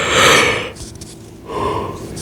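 A big yawn, starting with a loud breathy inhale and sliding into a softer, drawn-out exhale with a second swell near the end, close to the mic.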